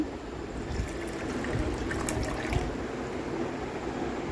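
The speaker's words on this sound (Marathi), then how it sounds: "आता इथे एका बाउलमध्ये घेते मी पाणी" Water poured into a bowl in a home kitchen while making a spiced gawar and potato dish: a steady, close trickling stream lasting several seconds with no speech.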